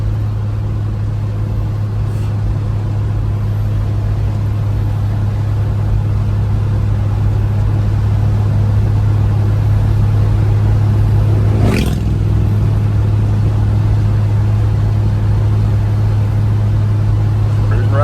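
A Mopar Slant 6 cruiser driving along a road, a steady loud engine drone and road rumble heard from inside the car throughout, with a brief sharp noise partway through.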